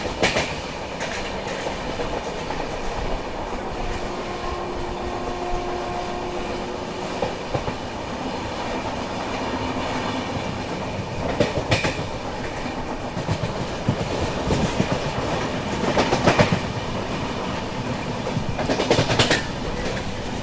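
The 11040 Maharashtra Express, an ICF-rake train running from Gondia to Pune, rumbles along the rails with a continuous, fairly loud roar and rhythmic clickety-clack, heard close up from on board for about twenty seconds.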